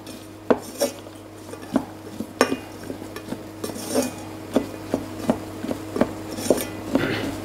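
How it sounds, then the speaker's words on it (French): A spoon stirs an éclair filling mixture in a pan over reduced heat, giving regular clinking, scraping strokes about once a second against a low steady hum, close and fairly loud, no speech. "Et je continue à mélanger."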